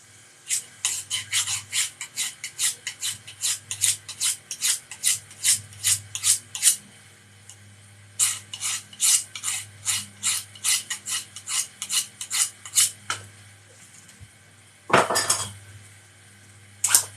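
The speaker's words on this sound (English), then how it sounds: "I'm going to sharpen my skew chisel." A skew chisel for woodturning is sharpened with quick, rhythmic rasping strokes, around a dozen in each of two bursts separated by a short pause, followed by a brief harsher scrape, all close and clear over a faint low hum.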